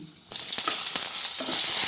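Eggplant added to already fried potatoes in a hot wok, a sudden burst of loud hissing sizzle that then holds steady, with a few stirring scrapes mixed in.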